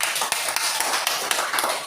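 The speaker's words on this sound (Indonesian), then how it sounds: "tepuk tangan untuk kelompok Umar" Classroom applause for a student group, a short burst of many hands clapping at close range, dense and steady with a few sharper claps standing out, no voices over it.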